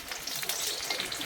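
Papad roll frying in hot oil after being turned over, a steady close hiss of bubbling oil with no voices.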